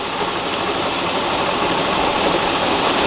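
Race car engine with a 727 transmission and trans brake running on a dyno, a dense, steady mechanical roar held at high revs for a few seconds, loud and close with no talk.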